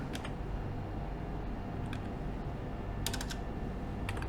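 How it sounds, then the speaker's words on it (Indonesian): Keys click on a computer keyboard in a few short, sparse bursts over a steady background hum, close and fairly soft. "Kita hanya akan mengetik Dolibar saja"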